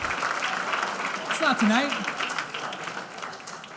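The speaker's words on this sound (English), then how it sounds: "Can we get a round of applause for everybody here tonight?" An evening leadership-series audience gives a dense, steady round of applause with many hands at once. A voice speaks briefly over it partway through.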